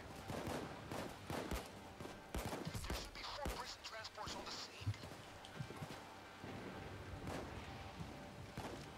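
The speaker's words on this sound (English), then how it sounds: "I'm just gonna use my single pistol for this." Rapid single pistol shots in the heist shooter Payday 2, a dense string of sharp cracks close in the mix, mixed with other game noise and a voice talking over the action.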